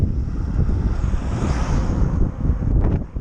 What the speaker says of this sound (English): The waves have definitely picked up.